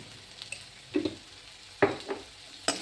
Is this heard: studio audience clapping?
no